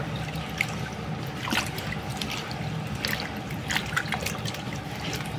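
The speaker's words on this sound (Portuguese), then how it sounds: "Aí mexe bem o sal na água." Salt being stirred into a bowl of water for soaking cut eggplant, with continuous soft sloshing and trickling and a few small clinks and splashes, close and fairly quiet.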